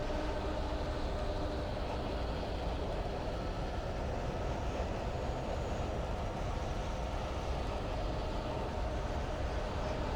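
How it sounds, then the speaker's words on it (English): In the video game Alan Wake Remastered, a train rumbles past with a continuous low, heavy roar that holds steady throughout at moderate loudness, with no talking. "Apart from a train."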